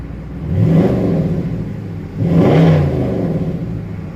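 A Dodge Charger engine, throttled through driver hand controls, revs up twice in two swelling bursts, settling back to a steady idle between them, close and loud.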